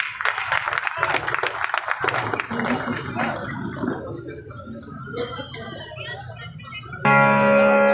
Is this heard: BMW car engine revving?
no